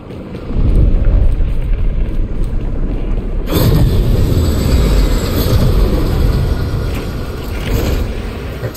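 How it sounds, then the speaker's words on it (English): A train pulls into a station in the video game Warframe with a steady, heavy rumble that swells and continues for several seconds. A brighter hiss of brakes or air cuts in partway through, and no one speaks. "The next train is arriving."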